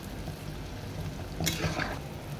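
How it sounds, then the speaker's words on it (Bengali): Palm fruit fritters, taler bora, fry in hot oil over medium heat, with a continuous close bubbling sizzle and a brief louder crackle partway through, no voices. "মিডিয়াম আঁচ দিয়ে এটা ভাজতে হবে, তাহলে ভিতরে কাঁচা থাকবে না"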